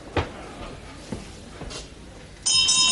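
A round-ending bell rings at a wrestling bout, a bright sustained ring arriving near the end after scattered thuds and crowd noise, with no talk over it.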